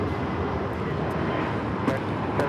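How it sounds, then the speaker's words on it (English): A Spirit Airlines A320neo jet takes off from runway 25 left at LAX, bound for Chicago, with a steady, broad engine roar that holds at an even level throughout. "This is Spirit Airlines 796 taking off to Chicago on the A320 Neo."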